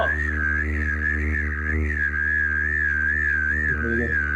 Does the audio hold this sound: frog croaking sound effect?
no